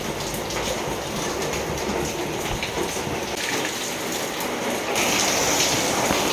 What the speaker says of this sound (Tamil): பாருங்கள், மழை வேறு ஹெவியாக போயிடுது.